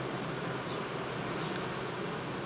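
Dense, steady buzzing of many honeybees at an improvised nucleus colony hive, a continuous close hum with no voices, holding even throughout.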